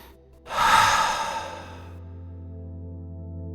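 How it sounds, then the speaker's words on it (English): One deep breath during a guided mindfulness relaxation: a breathy inhale rises quickly, then fades into a long soft exhale. It is close and clear, with only a low steady hum behind it. "Take a deep breath."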